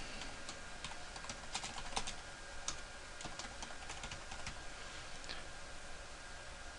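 Notes being typed on a computer keyboard during a purchasing software entry, a faint run of soft, irregular key clicks under steady background hiss, with no talking.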